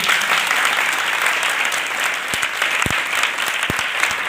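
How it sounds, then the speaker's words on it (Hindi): Loud, dense applause rises for Mahavir Singh at a Farmana village ceremony honouring meritorious students. Steady, close crowd clapping fills the whole stretch, with a few sharper individual claps standing out near the end. "उनके लिए एक बार जोरदार तालियां"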